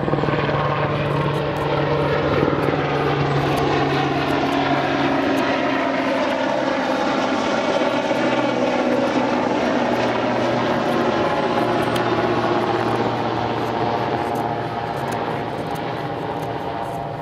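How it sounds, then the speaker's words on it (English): Steady, heavy rotor and engine drone of several helicopters passing overhead, loud and continuous with a low throbbing hum, no voices. "There's a lot of helicopters going around today."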